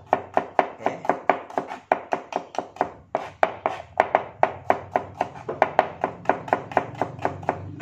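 Knife chopping shallots on a cutting board, a rapid steady run of crisp near taps, dozens of strokes in quick rhythm with brief pauses, alone without talk.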